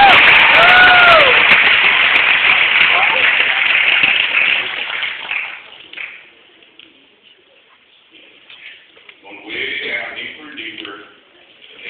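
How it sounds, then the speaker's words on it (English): Audience applause at a hypnosis show bursts loud and dense at the start, then fades out after about five seconds, leaving quieter room sound with scattered voices. "let's give these people a great big round of applause"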